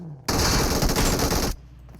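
Sustained burst of automatic AK rifle fire in the mobile battle royale game PUBG Mobile, loud and dense for over a second before cutting off abruptly, with nothing else heard.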